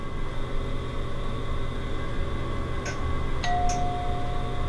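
Old Otis elevator bell in a skyscraper-building video game, chiming a few distinct dings over a steady background hum, the last one ringing out as a sustained tone.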